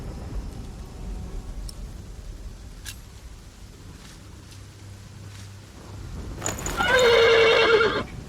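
A horse in the video game The Pillars of the Earth gives a loud, shrill whinny near the end after quiet ambient noise with faint hoof clops.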